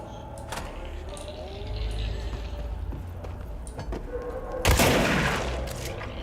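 Gunfire in the video game Control, a loud broadband burst standing out near the end over a steady murmur of game ambience and scattered small clicks and taps.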